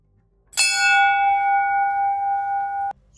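Single strike of a brass ship's bell of 200 to 300 mm diameter, a bright clang followed by a clear sustained ring that cuts off abruptly when damped.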